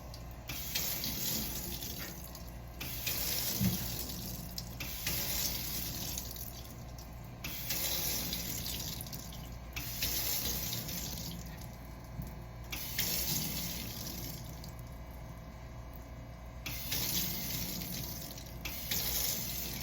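A sensor faucet gushes into a sink while hands are rinsed during a surgical scrub, the water coming in repeated bursts that start and stop every couple of seconds, close and fairly quiet, with no talking.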